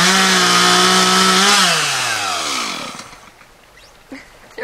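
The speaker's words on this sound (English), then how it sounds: "get your little chainsaw and hack that top part off" A small chainsaw cuts the dead top off a thorny bush, its engine buzzing loudly and steadily before the pitch drops as it winds down to idle and stops, followed by a few faint clicks and knocks.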